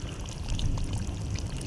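Soaked meat and its water are poured into a cooking pot for chicken korma, giving a steady, close splashing pour that runs without a break and with no talking.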